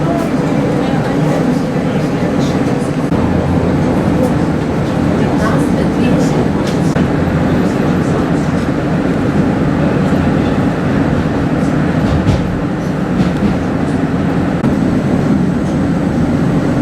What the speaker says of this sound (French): Voilà apparemment mon tramway.